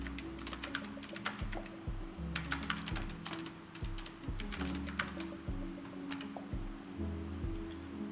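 Fairly quiet keyboard typing while a note is written during an app poker game, irregular clusters of soft key clicks with short pauses, over a low background hum and no talking.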